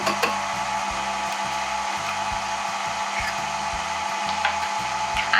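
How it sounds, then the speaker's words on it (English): An electric mixer runs on low while choux pastry dough is mixed, giving a steady whirring hum with a regular chugging pulse as the beaters turn, close and continuous without talk. "put the mixer on low, or you can mix it in by hand with a whisk"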